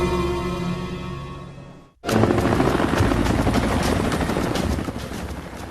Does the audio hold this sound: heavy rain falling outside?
no